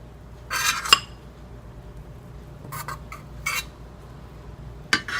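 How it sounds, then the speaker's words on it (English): A spoon scooping foam off eggs in a pan, giving a few sharp metallic scrapes and clinks in short separated bursts against a quiet background, close up with no talking. "So all I'm going to do is I'm just taking a spoon and just scooping that out."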